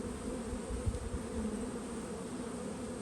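Honeybees hum in a continuous, fairly close drone over the open frames of a package hive during inspection, with no voices.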